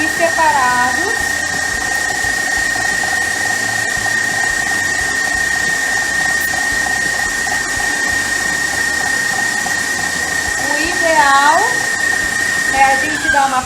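Electric stand mixer creaming butter and sugar, a steady whirring motor hum held throughout with a rising and falling whine near the end, under someone speaking.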